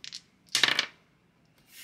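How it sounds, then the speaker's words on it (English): A pair of dice is rolled onto a hard surface, with a short clatter, a louder tumbling burst of several quick rattles, then stillness. "Alright, so now let's go to roll the dice."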